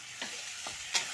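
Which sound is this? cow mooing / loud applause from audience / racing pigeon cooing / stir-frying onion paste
stir-frying onion paste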